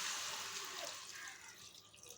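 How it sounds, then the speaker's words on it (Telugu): Tamarind-soaked water pours steadily into a pan, a soft continuous splashing rush with no voices. "చింతపండు నానబెట్టుకున్న నీళ్ళు ఉన్నాయి కదా, కొంచెం పోసుకుందాం."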